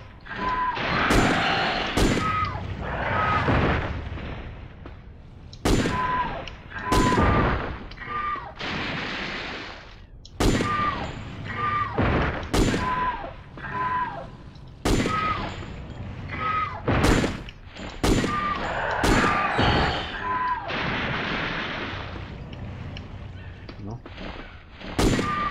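Repeated gunshots from shooting enemies in the survival horror video game Dino Crisis 2, sharp bursts recurring every second or two over a constant background din, with scattered game effects in between.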